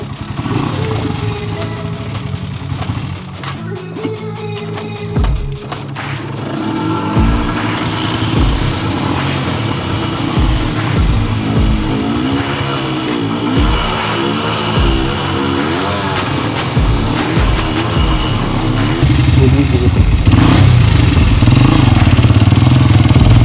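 Two small dirt bikes, an AG 200 and a Yamaha DT, run close by, their engines revving and pulsing in uneven bursts, the loud buzzing growl rising and falling continuously and building louder near the end.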